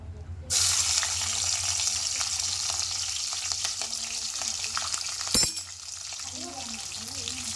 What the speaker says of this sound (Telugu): అది వేడయ్యాక దాంట్లో పచ్చిమిర్చి ఉన్ను ఆనియన్